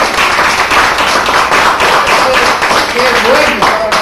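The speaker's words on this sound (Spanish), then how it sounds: "¡Una aplauso para ella!" A crowd at a managers' training school event claps in steady, dense applause, with voices mixed in beneath the clapping.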